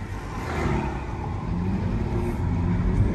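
A 2013 Audi A3 S-Line with a 2.0L TDI diesel accelerating, a steady low engine drone that swells gradually as it pulls, heard from inside the car with road noise and no talking.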